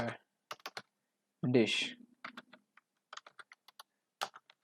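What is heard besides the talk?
typing on a computer keyboard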